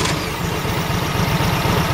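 The engine of a Prowler 20 LP truckmount cleaning system cranks and turns over with a rapid low chugging pulse, steady and close, with no talk.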